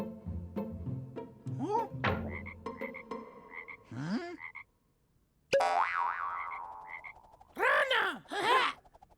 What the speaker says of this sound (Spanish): ¡Rana!